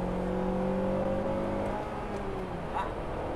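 Honda VTEC engine revving at around 5000 rpm: a fairly quiet, continuous engine drone with a tonal whine that slowly drops in pitch as it settles.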